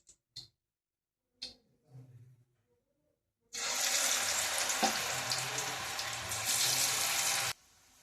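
Cauliflower pieces dropped into hot oil in a kadai for dry palak gobi: a few quiet knocks and clinks, then a sudden loud, dense sizzle that holds steady for about four seconds and stops abruptly, with no speech.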